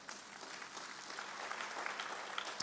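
A church congregation applauds, a faint, distant patter of clapping heard at low volume, continuing steadily with a few sharper claps near the end.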